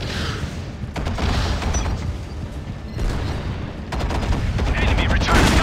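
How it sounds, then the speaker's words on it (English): Gunfire in the real-time strategy game Act of War: High Treason, during a desert siege battle: dense bursts of rifle and machine-gun shots with booming impacts, continuous and layered throughout. "Enemy return fire."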